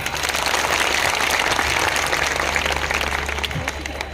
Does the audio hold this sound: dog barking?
no